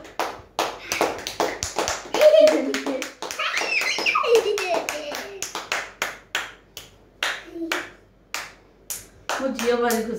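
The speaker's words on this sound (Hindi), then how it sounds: "तो ताली बनना" Hand clapping at a home celebration, sharp claps and taps in uneven bursts that mix with a voice and other chatter, close and fairly loud, thinning to scattered single claps toward the end.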